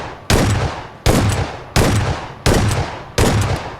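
Shotgun blasts in a video game: five loud, evenly spaced shots about 0.7 seconds apart, each a sharp crack trailing into a decaying boom, with no talking.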